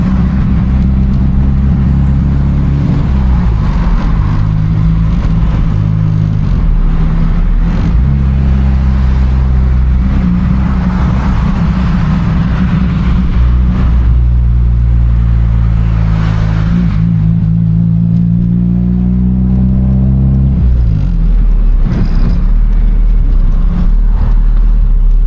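A Ford Maverick pulls away with a loud, steady engine drone and rumble, with the revs rising and easing a few times. The engine sound stays close and continuous throughout.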